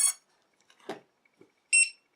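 Lost-model buzzer on an FPV drone with its battery plugged in, giving short bursts of high-pitched beeps with gaps between them, close and fairly loud, plus a brief low tone and some faint clicks.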